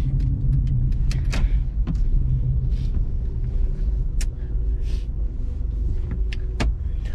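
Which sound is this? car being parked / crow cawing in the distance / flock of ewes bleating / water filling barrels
car being parked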